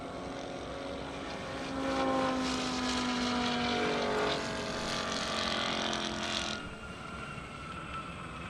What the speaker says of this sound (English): Up next, we have Taylor in a 2017 Chevy Camaro ZL1 and Michael Jordan in his 2015 Nissan GTR